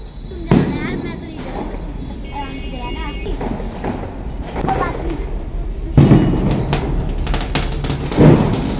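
Firecrackers pop and bang with a few sharp blasts during a family Diwali celebration at home, and excited voices and chatter run throughout.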